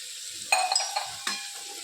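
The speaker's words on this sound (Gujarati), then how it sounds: "આપણે સાઈડ પર થોડું હલાવી મિક્સ કરી લઈએ" Vegetables being stirred and mixed in a hot pan with spices, steady sizzling broken by a couple of scraping stir strokes close by, no speech.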